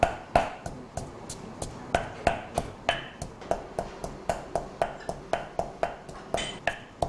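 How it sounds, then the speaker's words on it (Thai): Coriander root and pepper being pounded in a mortar for Thai khao tang na tang topping: a steady series of about twenty sharp, close thuds at a regular rhythm, each pestle strike crisp and evenly spaced. "รากผักชีใส่ลงไปแล้วก็ โขลกให้ละเอียดให้เข้ากับพริกไทยนะคะ"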